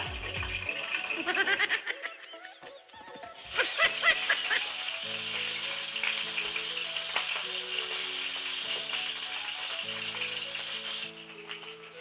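Marinated chicken leg quarters fry in oil with a crackling, spattering sizzle that swells loud and stays steady, while music plays underneath and a few brief sounds come at the start.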